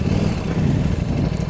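A KTM RC8 sport motorcycle engine runs steadily up close, a loud continuous low rumble with no talk over it.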